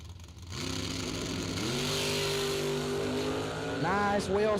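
Drag racing door cars launching at a drag strip event, engines roaring up into a sustained loud rev with rising pitch sweeps near the end, heard without talk.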